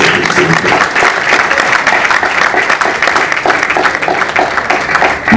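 Applause from the gathered friends at a press conference for Félix Wazekwa, a steady, dense clapping wash lasting throughout with some voices mixed in, fairly loud and close.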